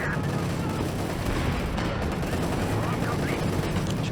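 An anti-tank gun fires amid a Company of Heroes 2 battle, with loud, dense gunfire, explosions and constant battlefield noise filling the whole stretch.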